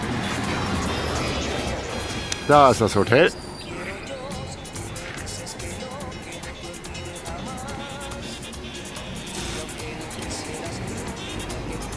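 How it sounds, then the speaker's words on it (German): A car approaches and passes on a road in Dominica, a broad engine and tyre rush rising and fading under steady nearby talk. "Oh, da kommt ein Auto."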